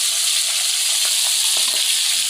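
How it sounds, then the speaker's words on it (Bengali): Fish frying lightly in a pan, a steady soft sizzle with faint crackles and small pops throughout, heard alone without voices. "হালকা করে ভেজে নেব"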